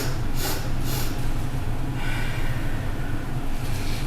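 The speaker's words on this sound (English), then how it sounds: "you can do 3 quick sniffs through the nose and 1 long exhalation through the mouth" A person doing a yogic breathing exercise takes three quick sniffs through the nose, then one long exhalation through the mouth, close to the microphone over a steady low background hum.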